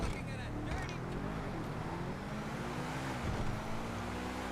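Truffade Thrax, the Bugatti Divo counterpart in GTA Online, cruising with a steady engine drone and road noise that rises and falls slightly, while someone talks over it throughout.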